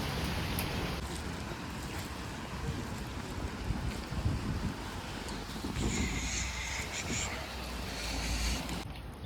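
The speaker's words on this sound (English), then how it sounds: "It's absolutely pouring it down." Heavy rain pouring down on a street in Vilnius, a steady dense wash of noise with wind buffeting the microphone throughout, close and loud.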